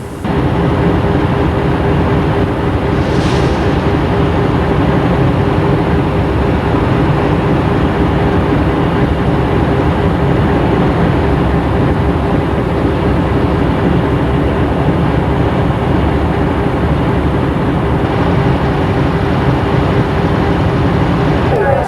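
The Middlemarch train passes at Hyde in Central Otago, New Zealand, in 1990, a loud, steady rumbling roar of rail wagons that holds without a break for over twenty seconds.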